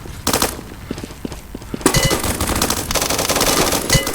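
Rapid automatic gunfire in Roblox Blackhawk Rescue Mission 5, loud dense bursts with a brief lull then sustained firing through the second half.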